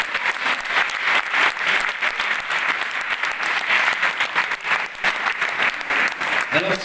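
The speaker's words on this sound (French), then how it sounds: "On peut les applaudir très fort." An audience at a doctors' conference in Thionville claps loudly and steadily throughout, a dense indoor round of applause with no pauses.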